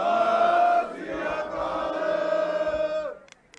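Sikh congregation answering a jaikara battle cry at a Shiromani Akali Dal gathering, a loud sustained chorus of many voices that tapers off after a few seconds.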